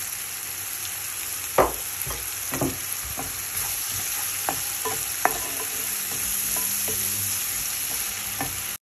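Chopped onions fry in a pan with a steady sizzle while a utensil stirs and scrapes, giving several soft knocks over the crackling, no talk.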